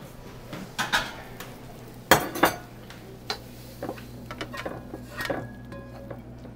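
Shrimp and vegetable pad thai being served onto a plate, with scattered clinks and scrapes of utensil against dish, a pair of sharper knocks in the middle, and softer clatter trailing off.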